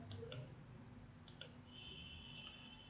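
Sharp computer mouse clicks during a spreadsheet lesson: two quick double clicks near the start and another pair around the middle, faint and close over a steady low room hum.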